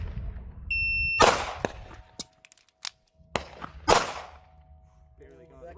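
Tisas PX9 Gen 3 compensated 9mm pistol firing beside a shot timer: a beep, then sharp close cracks, two leading and two later, with a few smaller ticks and low rumbling wind between them.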